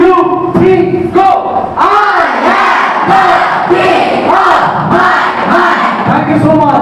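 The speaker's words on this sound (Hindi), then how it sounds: "we shout out together." School children at St. Nicholas Public School in Garhbeta, West Medinipur shout loudly in unison, a sustained crowd yell that rises and falls in several repeated bursts, close and filling the space.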